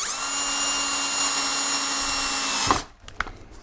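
A power drill drives a 40mm screw into a glued workshop shelf, one loud continuous whine holding a steady pitch for over two seconds before cutting off, followed by a few faint clicks and knocks.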